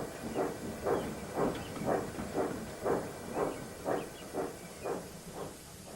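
Steam engine puffing steadily with rhythmic hissing chuffs about twice a second, moderately loud over a soft background rumble, with no voices.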